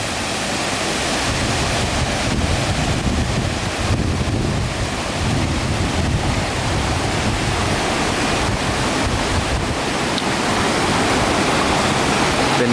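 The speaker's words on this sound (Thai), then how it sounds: "มุมด้านบนของน้ำตกเนาะ" Tat Ton waterfall, heard from the top of the falls: a loud, constant, broadband rush of pouring water that roars steadily throughout, with no talking.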